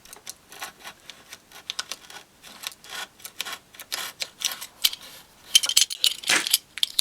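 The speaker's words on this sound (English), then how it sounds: "Just pull the blade towards you and it just trims the edge off." A utility knife blade drawn flat along the top of a shelf, trimming off excess edge tape, producing a run of small irregular clicks, scrapes and ticks, close and fairly quiet, with a sharper, louder scratchy burst near the end.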